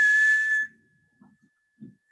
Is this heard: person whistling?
yes